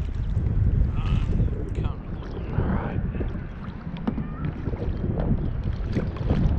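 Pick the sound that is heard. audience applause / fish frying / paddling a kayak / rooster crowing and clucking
paddling a kayak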